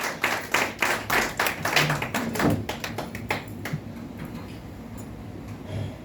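A small audience claps at a Hindi literary event, starting with loud, distinct rhythmic claps that thin out into scattered, softer clapping and taper off.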